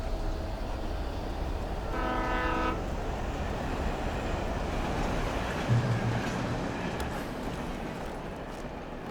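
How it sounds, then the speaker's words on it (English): Train on rails in the video game Alan Wake, a constant loud rumble with a short tonal horn blast near the start and a faint low tone later; no speech. "This is towards something important because it's a train."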